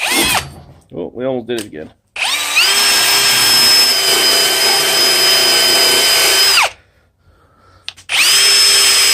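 A power drill runs steadily for several seconds while driving a part into an old tool during a rust-pitted restoration, starting again after a short pause; it is loud and close, with brief talk before it.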